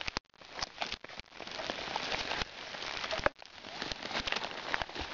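Steady rain pours outdoors on a wet day in the woods, a dense continuous hiss with scattered louder drops and crackles striking nearby surfaces, running alone with no voices.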